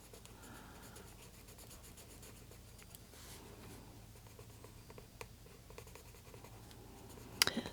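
Soft, continuous scratchy strokes of an Inktense coloring pencil on paper, close and quiet, with faint rubbing and a few light taps.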